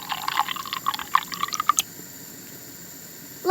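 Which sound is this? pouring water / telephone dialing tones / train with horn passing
pouring water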